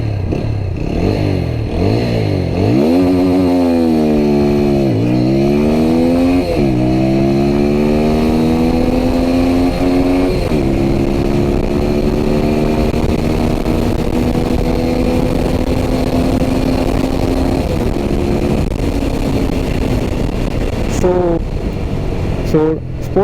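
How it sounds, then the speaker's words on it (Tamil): A TVS Apache RTR 200 4V motorcycle in sport mode launches hard, the engine revving up through rising pitch sweeps and gear changes into a sustained loud drone, close and dominant throughout. "ஸோ இங்கே வந்து நம்ம லான்ச் பண்ணி பார்க்கலாம் வண்டியை கொஞ்சம்."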